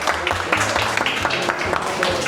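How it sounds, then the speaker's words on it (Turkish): A small group claps in quick, steady rhythm inside a busy baklava shop in Karaköy, a short burst of close applause with voices mixed in. "Evet, alkış,"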